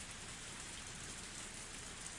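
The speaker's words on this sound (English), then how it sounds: "The rain was still pretty intense." Heavy, intense rain pours down in a constant, uniform roar of dense drops, unbroken and without any voices.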